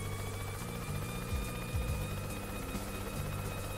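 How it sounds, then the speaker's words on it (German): Helicopter flying in the video game Yooka-Laylee, a steady whirring rotor drone that holds at moderate level throughout, with a few rising and falling pitch swoops. "Die Feder wird gesucht mit dem Helikopter."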